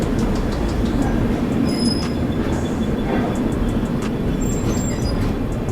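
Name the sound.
Tamil Nadu Express passenger train running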